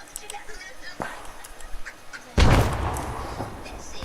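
A training grenade goes off with a sudden loud, broadband blast that cuts in sharply after scattered talk and then decays into a rumbling, noisy tail.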